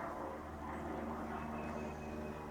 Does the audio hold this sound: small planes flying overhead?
yes